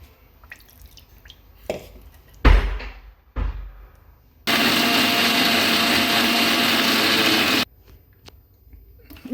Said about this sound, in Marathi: चला मिक्सरमध्ये बारीक करून घेऊयात